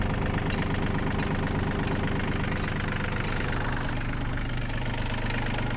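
A Yanmar AF22 Japanese mini tractor's small diesel engine idles steadily close by, a continuous low chugging rumble with a faint knocking pulse and no voices.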